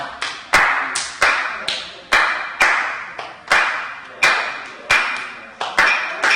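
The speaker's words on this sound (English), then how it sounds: "you're going to come in and clap with me" Sharp hand claps land in an even, steady beat, about nine crisp, close claps spaced evenly apart, each ringing briefly into the room before the next, with no talking.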